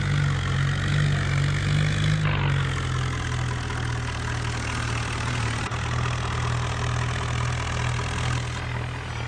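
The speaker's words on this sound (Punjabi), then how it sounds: "ਟਰਾਲਾ ਫਸ ਗਿਆ ਹੁਣ ਦੇਖਦੇ ਟਰੈਕਟਰ ਚੱਲ ਰਿਹਾ ਟਰਾਲਾ ਚੱਲਦਾ ਹੈ ਕਿ ਨਹੀਂ" Swaraj 963 tractor engine in a video game, straining against a stuck trailer: a loud, steady low diesel drone with a brief shift in pitch partway, close and alone.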